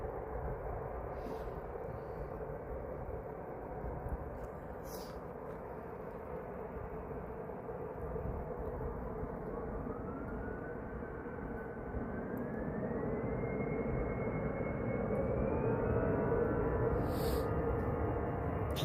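An Emirates Airbus A380 passing over Manchester Airport as a broad, steady jet roar that swells slightly toward the end, heard at a distance with a rising engine whine and no talk.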